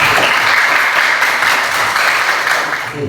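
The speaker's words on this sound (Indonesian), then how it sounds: "kita tepuk tangan." A school class claps together in steady, loud applause for about three seconds, fading slightly at the end, with no talk over it.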